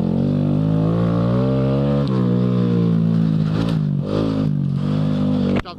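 A Honda Grom motorcycle rides off-road through soft sand on dirt tires, its small engine droning loud and steady close by, pitch rising and falling with throttle changes and a brief dip near the end.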